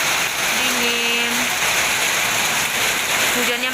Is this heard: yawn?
no